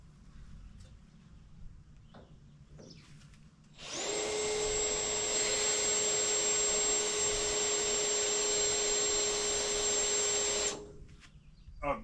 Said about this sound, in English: So I'm going to go get a drill bit and get this pre-drilled out.